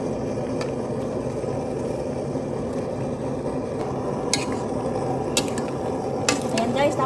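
Winged beans and jicama pods are stirred in a cooking pan, a steady close scraping and rustling with occasional light clinks of utensil against metal.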